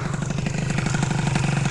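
A scooter engine idles very low and lumpy on race gas, sounding close and steady with an even pulsing beat as if near stalling.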